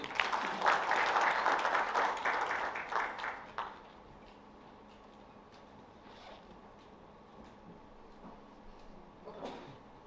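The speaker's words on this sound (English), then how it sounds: "Big round of applause" Audience applause at a CA Day 2025 event, a dense patter of many hands clapping for about three and a half seconds before it cuts off, leaving quiet room tone.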